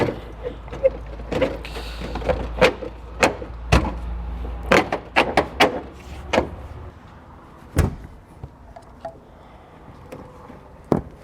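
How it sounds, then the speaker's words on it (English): A car threshold panel and floor covering are refitted in a 2018 Ford Taurus, making a run of sharp plastic clicks, snaps and knocks, some close together, against a low hum that stops partway through. "we need to reinstall our threshold panel as well as our floor covering"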